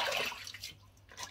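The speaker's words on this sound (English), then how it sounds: "Just seems to take forever now for this sink to empty." A slow-draining bathroom sink empties during a wet shave, a soft continuous gurgle and trickle of water running down the plughole, close and fairly quiet.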